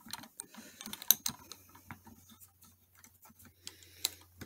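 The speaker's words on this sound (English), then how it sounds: "And then now let's secure this top plate again." Ficero universal Glock rear sight removal tool, its top plate being tightened onto a slide, giving a run of small close ratcheting clicks and metallic ticks, uneven and quiet, with no talking.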